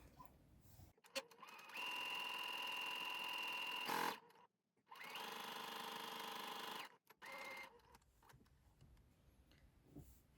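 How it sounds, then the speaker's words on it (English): Sewing machine running in three separate stitching bursts through chiffon fabric, a steady close mechanical whir broken by short pauses, with no voices. "Let's have a go at sewing some chiffon."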